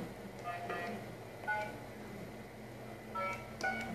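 A telephone number is keyed in on a touch-tone phone, giving a handful of short, faint dialing beeps spaced irregularly over a low room background.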